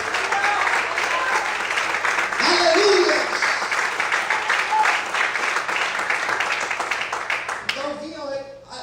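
A church congregation claps loudly and steadily for several seconds, with a voice calling out partway through before the clapping thins near the end.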